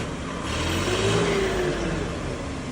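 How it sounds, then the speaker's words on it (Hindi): A tractor engine with a newly fitted turbo and no silencer yet, revving loud and steady close by, with a rising whine; no talking. "Race they race race race."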